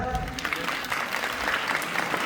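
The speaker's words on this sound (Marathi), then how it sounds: "तुमच्या टाळ्यांचा आवाज ऐकून असं वाटलं फारच" An audience at a lecture on Shivaji Maharaj claps together in dense, sustained applause that fills the whole moment, heard fairly close.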